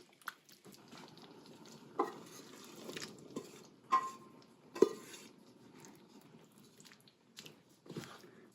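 Refried beans being mashed with a potato masher, heard as soft, squishy, irregular presses and occasional clanks of metal on the pot, quiet and close, with brief pauses between strokes.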